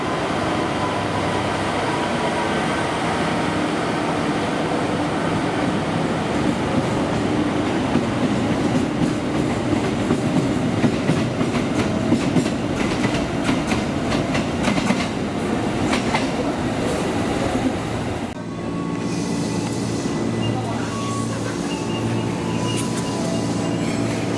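Indonesian-built CC 300 locomotive on a test run pulling through a station, a steady loud rumble with clickety-clack of wheels and some squeal, continuous and close, dipping briefly near the end.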